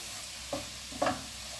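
Vegetables stirred in a frying pan, two brief scraping stirs about half a second apart over a faint steady sizzle, close by, with no voices.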